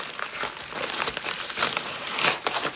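Crinkly plastic packaging torn open by hand on a fragile parcel, a close, soft run of crumpling and ripping noises with no talking.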